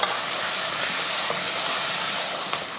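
A spoon scrapes and stirs through spiced masala in a hot pan, a continuous sizzling hiss with occasional clicks.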